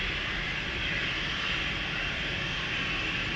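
An Adler airliner departing Amsterdam Schiphol for Bremen gives off a steady, moderate jet rumble with a whining hiss on top, unchanging over a few seconds and free of voices.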